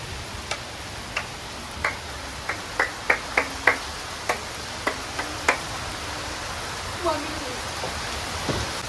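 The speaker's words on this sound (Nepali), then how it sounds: "बाहिर एकदम चर्को पानी पऱ्यो" Heavy rain pours outside during a windy thunderstorm, a steady hiss with scattered sharp drip and tick sounds close by.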